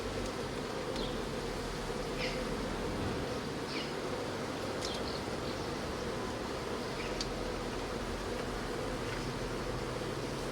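A continuous, even buzz of honey bees flying around a nuc hive during a newspaper-method merge, moderately loud and unbroken, with no voices.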